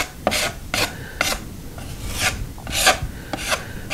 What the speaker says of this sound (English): you want to try to make it as smooth as you possibly can using your spackling tools